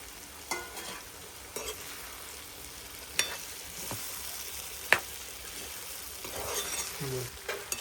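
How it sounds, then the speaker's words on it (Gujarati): Fried jackfruit pieces stir and sizzle in a tomato curry, with a steady frying hiss broken by sharp scrapes and clinks of a utensil against the pan at irregular intervals. "ફ્રાય કરેલું ફણસ નાખી દઈએ."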